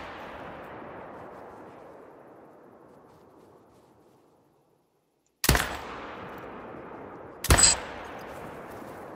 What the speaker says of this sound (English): How did that first shot not register?